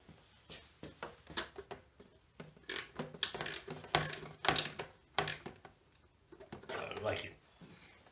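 Ratchet clicking in quick bursts while a trunk is tightened onto a 1993 Yamaha Riva 125 scooter, close and uneven with short pauses, and a person talking at times.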